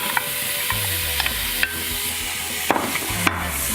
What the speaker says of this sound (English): I've already turned on my sauté function for this, and so I'm going to add some onion, some garlic, and my celery.